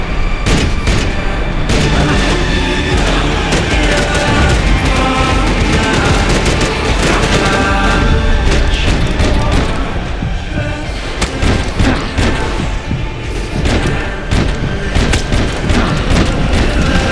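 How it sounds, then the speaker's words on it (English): Grenade blasts and heavy gunfire in the shooter game Max Payne 3, a loud, dense, continuous barrage of booms and rapid shots layered over each other throughout, close and relentless. "grenades."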